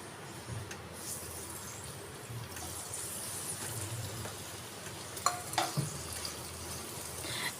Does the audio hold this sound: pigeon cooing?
no